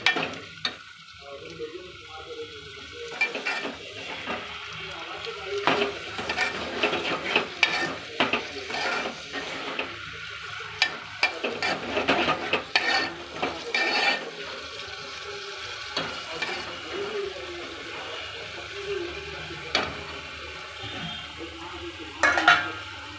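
A spoon scrapes and stirs steadily through lentils with raw mango in a sizzling pan, the clatter rising and falling over a long, continuous stretch.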